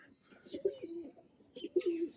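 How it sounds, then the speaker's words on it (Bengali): An Andhra pigeon of Fulshira lineage coos nearby in two soft, rolling bursts, one early and one near the end, with quiet gaps between and faint background noise. "এটা ফুলশিরা জেনারেশনের পায়রা আন্ধ্রা"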